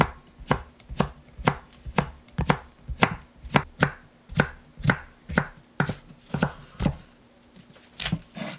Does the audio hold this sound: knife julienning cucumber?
yes